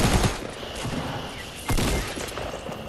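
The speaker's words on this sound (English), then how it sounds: "He's shooting at you." Automatic weapon fire in the Fortnite Battle Royale video game, a dense fusillade of rapid shots that swells louder partway through and stays close and continuous for several seconds.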